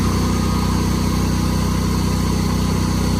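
A rented panel-curving machine runs while standing seam roof panels are fed through for a curved roof, giving a loud, steady motor drone with a low rhythmic throb and no pauses.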